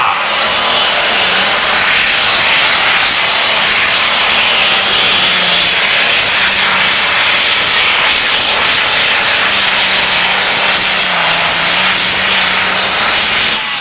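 John Deere pro stock pulling tractor engine roaring during a tractor pull at an NTPA Grand National event, a loud continuous high-pitched engine howl with a broad rushing roar sustained throughout.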